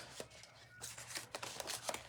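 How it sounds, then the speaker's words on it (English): Small scissors snip around a stamped paper image during fussy cutting, a series of close, quiet, crisp cuts in an uneven rhythm, no talking heard. "I'm just going to fussy cut it"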